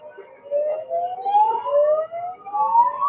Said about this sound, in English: Sirens, cops.